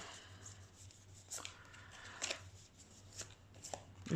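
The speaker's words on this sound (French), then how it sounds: "je vais mettre 2 cartes par tas" Tarot cards are dealt out and laid into small piles on a table, soft irregular taps and slaps of cards landing, close and quiet, with no talking.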